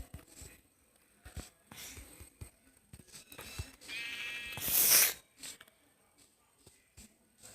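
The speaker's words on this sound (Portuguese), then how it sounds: "Mais ovelha." A sheep bleats in the video game Minecraft, one loud drawn-out bleat after soft footsteps and shuffling sounds, with no talking over it.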